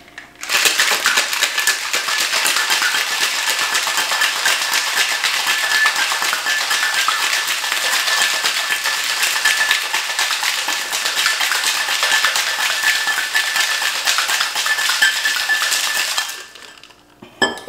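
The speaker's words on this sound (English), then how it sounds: "And now, just as before, we're going to shake it up." Smoky margarita shaken hard in a cocktail shaker with ice: a loud, dense, rapid rattle of ice against metal that runs steadily for about sixteen seconds, then stops, heard alone without talk.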